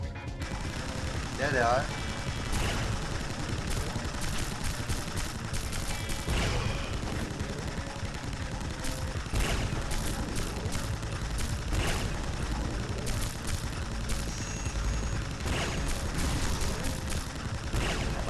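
Bursts of gunfire, including shotgun blasts, in a Star Warfare 2 Payback PvP match, with repeated sharp shots over a constant game background and a voice speaking briefly.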